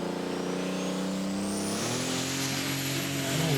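Modified pulling tractor built around a John Deere engine at an agricultural show tractor pull, roaring loud and steady, the pitch climbing as it powers down the track with heavy wheel speed, a sustained close engine howl.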